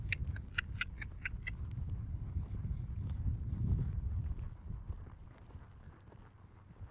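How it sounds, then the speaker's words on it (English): A horse lopes on the left lead, with faint rhythmic hoof thuds on soft ground heard from a distance over a low rumble, accompanied by a light jingling of tack early on. "I'm going to lope off in the left lead."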